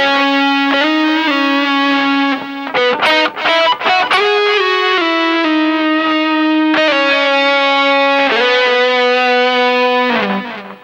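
A distorted electric guitar plays a sustained melodic phrase with slides and a quick run of picked notes in the middle, loud, continuous and heard alone.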